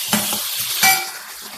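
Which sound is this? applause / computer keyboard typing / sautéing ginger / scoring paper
sautéing ginger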